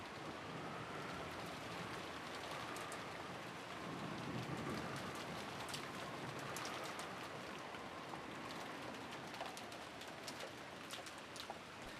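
Steady, dense rain pours without a break in the Umineko visual novel game, a soft hiss of drops on a rainy rose garden that stays even and fairly loud throughout, with no voices.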